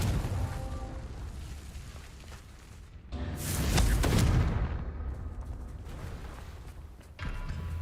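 A Confringo fire-blast spell bursts in Hogwarts Legacy, a rising explosive whoosh and boom at mid-clip amid ongoing combat noise, followed by another sharp burst near the end.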